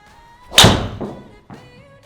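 A TaylorMade SIM driver strikes a golf ball with one sharp, loud crack up close, which fades quickly. A softer thud follows about a second later.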